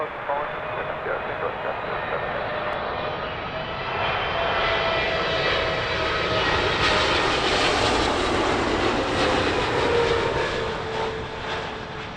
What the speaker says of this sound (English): Runway 27 left, clear to land, Singapore 306.